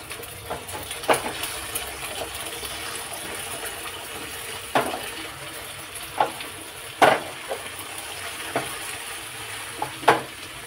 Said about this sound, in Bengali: চলুন ডিমটা ভাজা হোক।